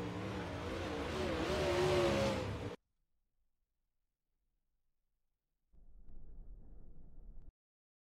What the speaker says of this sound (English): And we get the cars off the racetrack there for the pre-race hot laps